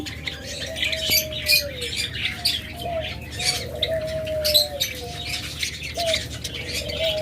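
Caged pet lovebirds at a bird sale, including a rainbow and albino pair, keep up a busy stream of sharp chirps and squawks with scattered wing flutters, close and fairly loud.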